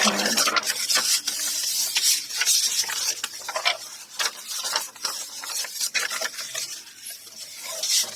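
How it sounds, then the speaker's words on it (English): Paper pocket corners and edges being burnished, giving a run of close, dry rubbing and scraping strokes in an uneven rhythm, with no talk over them. "burnish these corners down again, these edges nice and tight"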